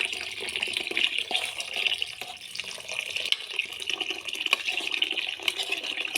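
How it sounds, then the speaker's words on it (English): Cold water pours steadily from a tap into a cooking pot for spaghetti, a close, continuous hissing splash with small gurgles and no talking. "So what we are going to do is put in cold water."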